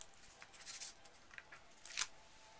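Tyvek peeled from a mini-album book spine with a dental pick gives a few soft, crinkly tearing bursts, with the clearest pulls near the start and end, quiet and close.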